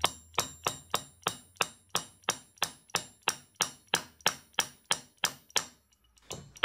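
A hammer taps a new dowel pin into a racing engine camshaft resting on a block of wood, about seventeen sharp, evenly spaced metallic strikes close up, then a brief pause and a final knock.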